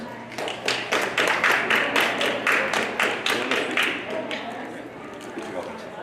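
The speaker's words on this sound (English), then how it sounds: "Let's have a big round of applause." An audience applauds a poet at a library's tenth-anniversary reading, with close, evenly paced claps running steadily for about four seconds before fading, while low voices murmur in the room.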